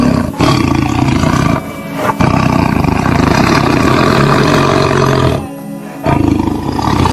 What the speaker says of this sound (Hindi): तभी आधी रात को गुर्राता हुआ बाघ प्रवेश द्वार से अंदर मंदिर की ओर आ रहा था।